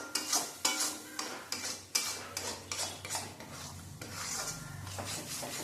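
A utensil scrapes and stirs loitta fish jhuro in a pan, a series of rhythmic rasping strokes at close range, fairly quiet and without speech.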